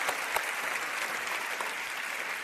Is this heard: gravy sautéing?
no